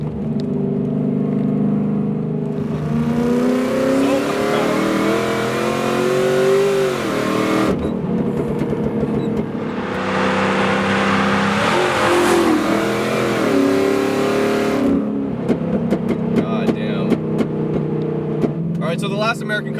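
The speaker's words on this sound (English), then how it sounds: "The sound of that engine just cannot be beat." A supercharged 800 hp Cadillac CTS-V engine revs loudly and up close, its rising and falling pitch sweeping through several throttle blips across the clip, with a voice talking over parts of it.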